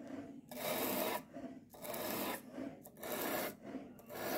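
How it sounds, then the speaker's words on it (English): A knife blade drawn repeatedly across a sheet of sandpaper during sharpening, the knife from a JRK kit, giving five or six steady rasping strokes with short pauses between them, close and loud, with no talk. "do the same strokes until I can feel on both sides that there is a burr forming"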